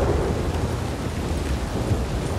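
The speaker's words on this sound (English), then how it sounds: "we're in the middle of a thunderstorm. Storm clouds and thunderbolts." Steady heavy rain with a deep rolling rumble of thunder during a thunderstorm in the video game Red Dead Redemption 2, loud and continuous, with no voices.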